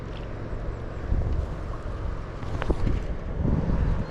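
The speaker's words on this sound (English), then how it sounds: "Even this wind makes it really difficult." Wind blowing beside the River Tyne at Dilston, a steady low roaring rumble that buffets the microphone and swells louder in gusts, with no voices over it.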